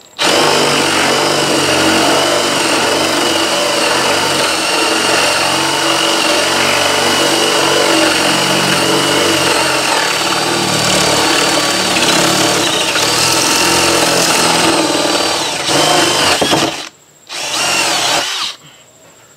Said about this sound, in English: I've got 4 holes spotted on the board, which allow me to drill back through and hopefully get nice clean holes both ways